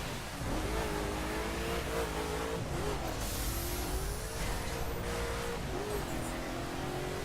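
A car races through a Mount Rushmore time-attack event in The Crew driving game. Its engine gives a sustained, loud drone whose pitch wavers and rises, heard alone without speech.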